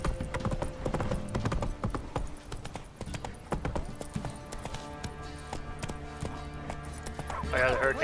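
Horse hooves clip-clop in a steady walking rhythm in The Witcher 3, close and clear, mixed with game music and a talking voice, and a brief whinny near the end.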